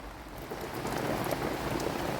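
Steady rain drumming on the roof of an allotment shed, a dense continuous patter that holds at a constant level throughout with no voices.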